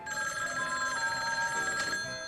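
An old-style telephone bell rings alone in a quiet room, a bright continuous metallic trill with a sharp burst near the end.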